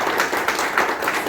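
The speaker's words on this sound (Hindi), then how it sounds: "इनके लिए हम जोरदार तालियां दें" Audience applause during a workplace talk on communication skills and etiquette, a steady dense patter of many hands clapping, moderately loud and even for its brief length.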